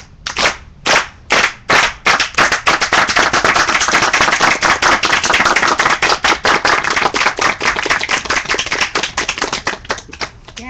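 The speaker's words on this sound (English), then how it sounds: "Solidarity clap." A small group gives a solidarity clap in a casual indoor gathering: a few separate claps first, then steady, dense clapping that keeps up loudly for several seconds.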